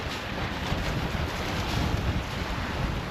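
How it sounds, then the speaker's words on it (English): Wind blows hard on a beach beside a small fire, a dense, constant rushing roar buffeting the microphone with no voices. "I like to block the wind."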